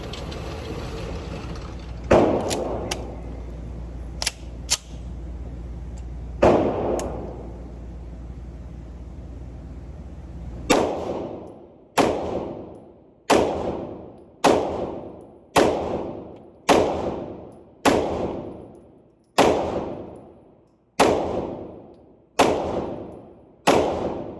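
Shots from an MPA DS9 2011 Commander Carry pistol fired at a steel target about 7 yards away, a dozen loud, sharp reports in a steady cadence, each with a ringing decay, after a few scattered earlier shots.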